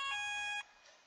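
An Apollo fire alarm recreated in a Scratch project sounds a steady electronic tone for about half a second, then cuts off, leaving a faint hum.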